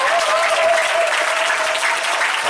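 Church congregation at a thanksgiving service applauding Jesus, steady dense clapping from a large crowd, loud and close throughout.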